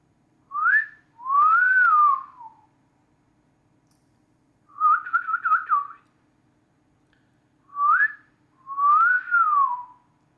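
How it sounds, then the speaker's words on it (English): Someone whistles short melodic phrases, rising and falling in pitch, in two clear groups separated by silence, loud and close with nothing else audible. "Can you guys whistle or no?"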